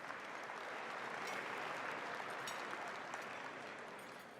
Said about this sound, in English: So let's give a big round of applause to all our sponsors for their outstanding support.